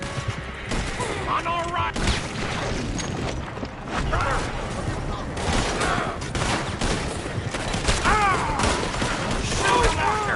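Gunfire in the Red Dead Redemption 2 video game, repeated rifle and pistol shots cracking in quick irregular volleys during a chase, with characters shouting over the shooting.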